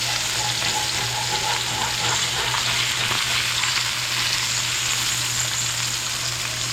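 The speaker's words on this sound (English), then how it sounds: "Now here you can see me flipping my fish to the other side." Salmon sizzles steadily in a frying pan as it is flipped, a loud, even crackle of hot oil with a low hum beneath and no talking.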